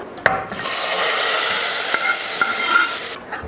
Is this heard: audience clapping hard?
no